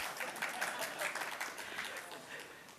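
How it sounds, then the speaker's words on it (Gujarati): Applause from an audience at a Gujarati poetry gathering, a steady wash of many hands clapping at moderate distance for about three seconds with no pause. "તાળીઓ એકવાર"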